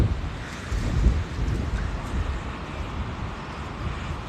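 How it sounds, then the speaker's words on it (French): Strong wind buffets a microphone outdoors on a street in Monaco, a loud continuous low rumble with gusty swells and no talk. "Là c'est affreux le vent qu'il y a."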